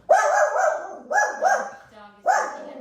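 A dog barks at the neighbors indoors: three loud, close, drawn-out barks in quick succession, the middle one doubled, with no one speaking over them.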